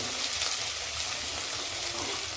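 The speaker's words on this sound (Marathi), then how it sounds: "आता मी त्यामध्ये लसूण पाकळ्या टाकते मी पण चांगलं परतून घेऊ" Garlic cloves sauté in hot oil in a pan for a pea pulao, giving a steady, even sizzle that fills the whole stretch, close and moderately loud, with no voice.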